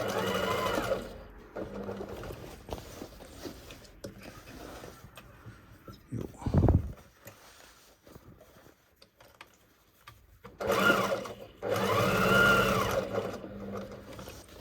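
A sewing machine stitches the pocket lining of a pair of jeans, running in a fast, steady whirring rattle, then pausing through a quieter stretch with a few taps and handling noises before stitching again loudly near the end.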